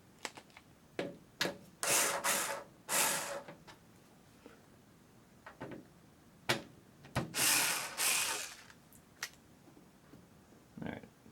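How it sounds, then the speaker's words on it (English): Screws being loosened on a Donkey Kong cocktail arcade cabinet during a restomod, with a string of close scraping, rubbing turns and sharp clicks in bursts, some longer grinding strokes, and no talking. "just loosen these screws up just a little bit more"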